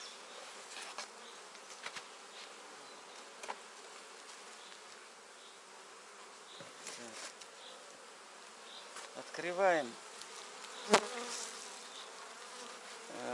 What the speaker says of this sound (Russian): Вот, посмотрите, пчелы.